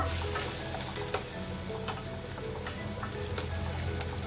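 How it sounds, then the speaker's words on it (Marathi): Continuous crackling sizzle of carrots sautéing in a pan, with occasional light scraping stirs, steady and close. "हे गाजर चांगलं परतून घेऊ आपण"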